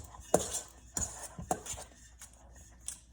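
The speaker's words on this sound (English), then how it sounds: "So I'm mixing the cream cheese together" Cream cheese is mixed in a large bowl with a utensil. Sharp clinks and scrapes of the tool against the bowl come close and loud at irregular intervals, then fade to softer stirring.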